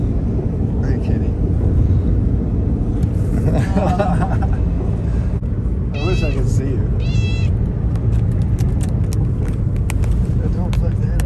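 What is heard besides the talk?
cat meowing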